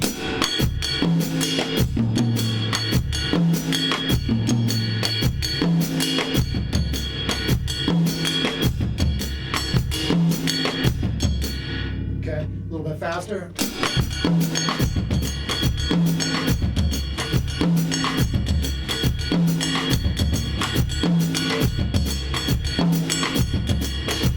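A steady Afro-Cuban 6/8 drum kit groove in a rolling triple-feel pattern, kick and hi-hat repeating evenly throughout, with a brief dropout near the middle before the beat resumes.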